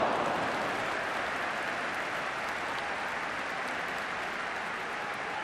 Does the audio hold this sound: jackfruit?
no